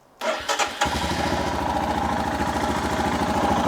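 A Royal Enfield Himalayan motorcycle engine cranks with a brief starter whir, catches, and settles into a steady, loud, close-up thumping idle.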